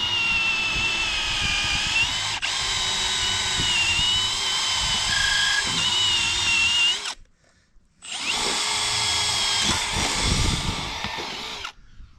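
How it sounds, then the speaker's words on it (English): A power drill boring holes for hanging a ranch pasture gate, running loud and steady in two long bursts with a brief pause between them and no talk. "Let me drill the holes"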